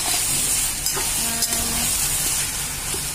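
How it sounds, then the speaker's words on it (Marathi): Sliced eggplant for a dry Marathi vangyachi bhaji sautés in a pan, giving a steady, close sizzle and hiss with faint stirring scrapes throughout. "अजून एक 2 मिनिटं आपण परतून घेऊया."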